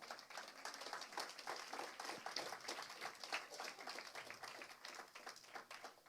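A church congregation claps along steadily in a quick, continuous rhythm of many hands, filling the room at a fairly even level with faint voices mixed in.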